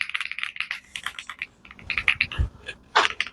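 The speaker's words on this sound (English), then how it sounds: "I love the sound of a mechanical keyboard" Rapid clacky typing on an AUSDOM wireless mechanical gaming keyboard, close and crisp, with irregular bursts of keystrokes and a brief pause midway.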